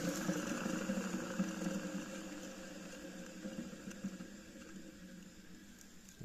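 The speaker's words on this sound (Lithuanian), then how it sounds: "Paklausysime, kaip variklio guoliai." The electric motor of a Renault Zoe turns with its bearings running, a steady whirring hum with layered tonal whine, moderately quiet and continuous, easing slightly in level toward the end.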